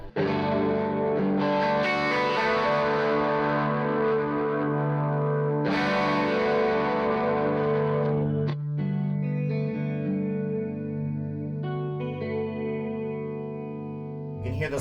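Chroma Console effects unit adding a shimmering chorus to sustained, distorted chords that ring out and swell, loud and continuous, with a brief break midway before the tones return.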